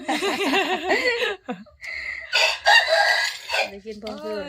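A bantam rooster crows loudly and close by, a long wavering call, followed by a second shorter crow and clucking sounds.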